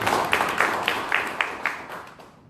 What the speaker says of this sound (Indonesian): Tepuk tangan dulu untuk Bapak Ibu sekalian